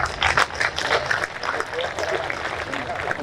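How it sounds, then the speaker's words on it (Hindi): Applause from an audience at a political rally in Sirmaur, Himachal, breaks out in uneven bursts of clapping mixed with crowd noise, strongest at the start and then thinning under a busy background. "तालियों से पता चल जाता है।"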